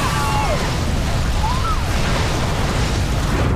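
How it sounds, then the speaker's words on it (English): Gases inside an aircraft cabin ignite in a loud, sustained roaring blast that stays dense and full throughout, with faint whining tones sliding through the rumble. "The gases ignited with the force of an explosion."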